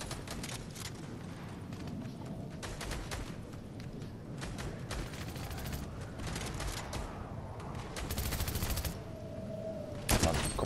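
Gunfire crackles in the battle game Fortnite, rapid bursts of shots spread across a continuous background of game noise, with one louder, sharper burst near the end.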